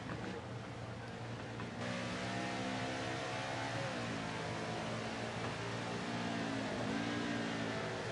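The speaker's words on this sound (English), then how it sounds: "You just hear B Million feathering that throttle." A race truck engine at Mid-Ohio in a racing video game hums steadily at mid pitch, its tone wavering and dipping as the throttle is feathered, with other vehicles droning around it.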